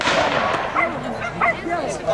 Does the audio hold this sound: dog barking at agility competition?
yes